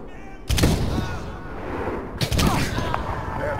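Two heavy gunshots boom from a rifle in Medal of Honor (2010), each with a long rumbling echo, about two seconds apart and loud and close.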